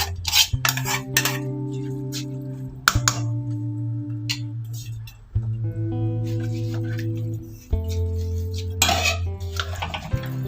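Soaked rice goes into a pot of fried masala for egg pulao, with repeated clinks and scrapes of a metal spoon against the pot and sharp knocks spaced through a steady ringing kitchen background.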